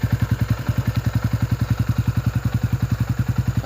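A Yamaha Y15 motorcycle idles steadily up close after accident repair and new body panels, its single-cylinder engine thumping in an even, rapid rhythm with a faint mechanical clatter and no voices.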